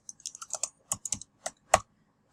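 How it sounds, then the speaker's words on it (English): A question is typed on a computer keyboard, with about a dozen quick, close key clicks in short uneven bursts and gaps, no voice over them. "So here is where you type your question."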